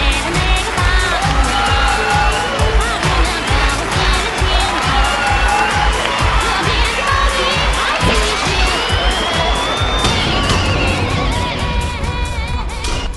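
An audience at a televised dating show claps and cheers as contestants come on stage. Dense, loud applause runs throughout, mixed with shouts and whoops and backed by music.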